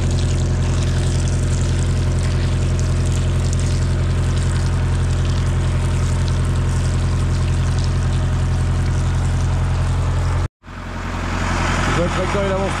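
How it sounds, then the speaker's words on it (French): A tractor planting winter leeks while water pours into the planting holes, with a loud, constant engine rumble and rushing water, which cut out abruptly near the end before the noise returns more faintly. "Le tracteur il avance tout seul."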